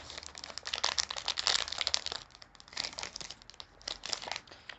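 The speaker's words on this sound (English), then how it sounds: "when you open it up, it comes in this little envelope here" Crinkly paper-and-foil rustling as a small Hyde N Bar envelope package is opened, with a steady run of close crumpling and crackling bursts for a few seconds and no talking.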